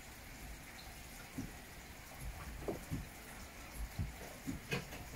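Rain patters steadily around a Citroen Ami microcar, with irregular heavier drips and splashes landing close by.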